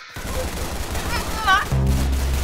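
Rapid bursts of gunfire in a Roblox Arsenal match, a close clattering volley that peaks and then gives way to a louder rumble, with a voice chirping briefly over it.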